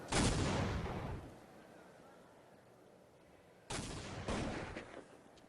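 Gunfire in Counter-Strike 1.6 during a match: two loud, close bursts of shots, each followed by a fading tail, with a quieter gap between them.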